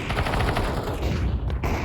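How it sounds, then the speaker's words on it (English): Rapid automatic gunfire in an online shooter video game, a loud continuous burst of shots that fills the whole stretch with a short dip near the end, no voices over it. "I shoot him like 3 times in the chest."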